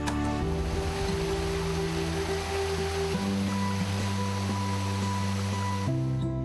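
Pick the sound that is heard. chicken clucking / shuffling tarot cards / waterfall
waterfall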